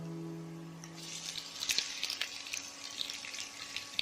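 Chopped onions sautéing in a pan for Kerala-style egg roast, a steady close hiss and crackle of frying with a few louder sputters, no talk.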